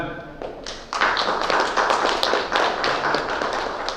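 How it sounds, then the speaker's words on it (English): A crowd breaks into applause at a Mumbai Indians meet-and-greet event, a dense patter of many hands clapping nearby, lasting several seconds after a brief murmur of voices. "Round of applause."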